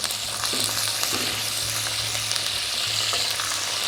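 Garlic fries in hot oil with curry leaves and rampe, giving a continuous close sizzle and crackle with occasional stirring scrapes and no talking.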